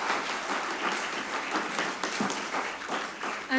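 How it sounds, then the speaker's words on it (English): Audience applause at a social worker of the year awards ceremony, steady dense clapping from a crowd filling the whole stretch at a moderate level, with no talk over it. "a round of applause for you all"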